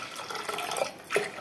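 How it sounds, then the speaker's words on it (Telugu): Water poured into a cooking pot, three glasses' worth for a pressure-cooked breakfast dish, splashing and trickling steadily at close range with a brief louder gush near the end. "3 గ్లాస్ వాటర్ వేసుకున్నాను."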